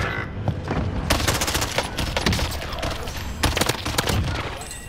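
Rapid automatic gunfire and explosions in the video game Call of Duty: Modern Warfare, dense overlapping bursts that are loud and continuous, with a voice talking faintly under the shooting.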